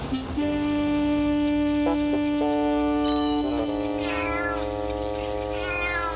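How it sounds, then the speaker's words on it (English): A local cat meows in long, drawn-out, wavering cries, loud and close, in a run of several calls with steady background noise and no talking. "That confounded local cat keeps running in here to get away from the dogs."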